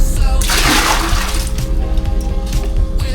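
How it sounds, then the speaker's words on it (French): A toilet flushing on a bus in Vietnam, a loud close rush of water that surges sharply and then keeps churning over a low mechanical hum. "Ça c'est la chasse d'eau."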